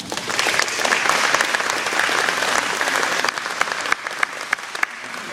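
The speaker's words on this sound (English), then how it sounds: "Would you give a good hand clap for Angel BUA?" An audience gives sustained, steady applause, dense clapping that holds at an even level and thins slightly toward the end.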